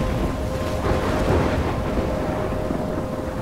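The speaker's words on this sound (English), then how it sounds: "I'm trapped in a storm?" Thunderstorm in the video game Life is Strange: a steady, loud roar of heavy rain and rolling thunder, swelling slightly midway, with no speech.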